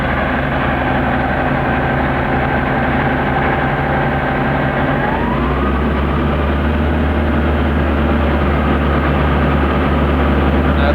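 Air-cooled engine of a Panhard AML60 armoured car found in a scrap yard, running loud and steady; partway through it drops into a deeper, heavier low rumble that holds to the end.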